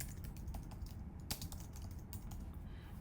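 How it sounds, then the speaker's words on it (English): Quiet keystrokes on a computer keyboard, a quick run of irregular clicks and taps, close and soft, with one sharper press partway through and no one speaking. "I'm going to click text and I'm going to type in composition and design."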